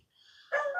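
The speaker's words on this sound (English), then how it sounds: "Come on, dog, be quiet." A dog gives a single short, sharp bark close by, preceded by a faint whimper-like whine.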